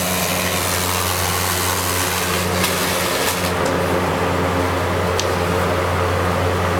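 A B&Q five-bladed box fan runs close by with a steady, even whir and low hum, broadband air noise throughout and a couple of faint clicks, no one talking.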